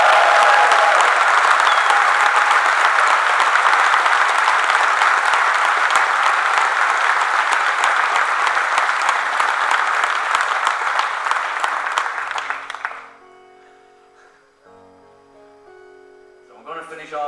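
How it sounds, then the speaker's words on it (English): A big audience in an opera house claps and cheers for the staff in a long, loud, sustained ovation that runs for about twelve seconds before fading out under music and a few voices. "Give them all a huge round of applause."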